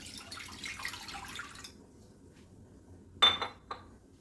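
Water is poured into a dish to mix a flour paste for steam-fried chicken, a brief splash and trickle with a clink near the end after a quiet stretch.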